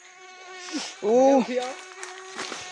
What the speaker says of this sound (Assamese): ইয়াত মহ চহ বহুত আছে